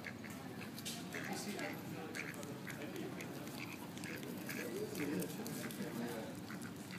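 Ducks quack repeatedly while eating Hot Cheetos outdoors, scattered calls close by with people talking over them.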